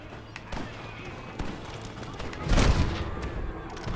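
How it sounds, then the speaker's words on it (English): Gunfire in the Western video game Red Dead Redemption on Xbox One, a burst of shots and game noise mixed under ongoing talk and in-game shouting, with a louder cluster midway. "Didn't actually mean to shoot the horse."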